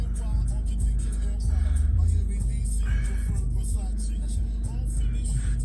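A 2016 Audi A3 Sportback 2.0 TDI 184 quattro S-tronic diesel idles steadily after starting, a loud low rumble right up close with a brief rougher pulse partway through and faint cabin noises on top.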